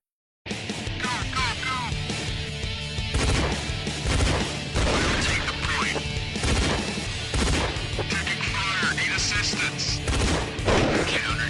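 Dense, continuous gunfire and impacts from an online multiplayer shooter game, loud and chaotic throughout with overlapping shots and crashes, and some voices mixed in.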